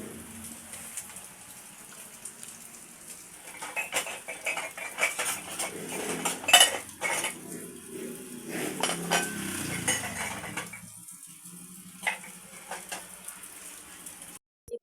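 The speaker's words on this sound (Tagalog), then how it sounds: "punta naman tayo sa ating lababo para maghugas ng plato" Dishes being washed at a small home kitchen sink, with cutlery and plates clinking and clattering irregularly, water splashing now and then, moderately close and without speech.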